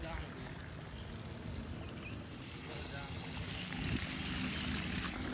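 Water gushes from a pipe into a pond, splashing steadily in a broad rushing roar like a waterfall, growing slightly louder toward the end, with voices faintly underneath.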